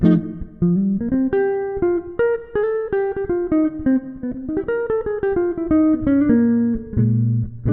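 Clean electric guitar plays a straight blues progression, plucked chords and bass notes moving in a steady rhythm, with no talking.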